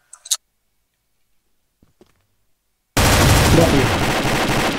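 Rapid bursts of gunfire from a team-based online shooter game erupt suddenly after near silence and a few faint clicks, then run loud and continuous to the end.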